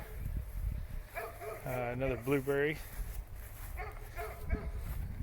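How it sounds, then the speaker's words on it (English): A dog on a homestead gives a short run of barks and whimpery yelps, fairly close, in between and under a person talking. "Sorry for the dog."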